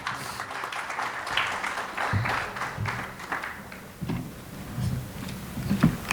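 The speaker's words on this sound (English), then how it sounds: "Please keep clapping." A conference audience at a seed-trade policy session claps steadily at moderate volume, with a few sharper individual claps and light background murmur.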